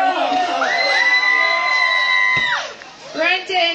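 A crowd at a logging camp competition cheers and whoops loudly for a log thrower's fourth throw, sustained shouts and yells close up, dipping briefly before another burst of cheering.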